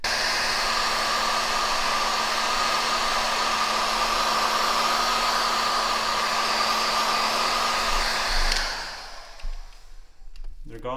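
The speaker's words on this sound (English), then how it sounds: "And now we're gonna add some heat and watch those disappear." A heat gun blows steadily on scratched paint protection film on the front bumper of a C8 Corvette. It gives a loud, constant whooshing hum that cuts off near the end, leaving quiet.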